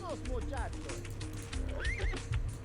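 A horse in the strategy game America: No Peace Beyond the Line gives several rising and falling whinnies over clip-clopping hooves and busy in-game ambience.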